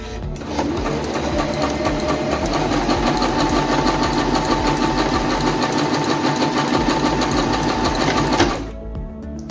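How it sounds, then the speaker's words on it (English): A Singer M1255 sewing machine runs steadily while stitching a buttonhole, its rapid mechanical whir continuing at an even pace for about eight seconds before cutting off abruptly near the end. "Sew stitch D to complete your buttonhole."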